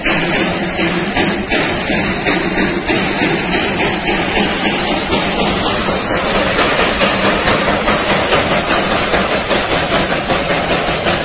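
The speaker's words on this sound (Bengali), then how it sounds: "ছাড়তে ছাড়তে মাসি মারতে মারতে আস্তে আস্তে আমাদের চোখের সামনে থেকে মিলিয়ে যাচ্ছে ট্রেনটি," A Darjeeling Himalayan Railway heritage train departing in Darjeeling, a loud, continuous rumbling hiss with a rhythmic chuffing pulse that keeps up steadily throughout.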